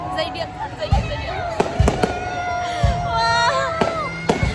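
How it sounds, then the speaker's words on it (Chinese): Fireworks burst close by at night, several sharp booms spaced irregularly with crackling and fizzing between, while excited voices call out and chatter throughout. "第一次我看烟花那么近啊"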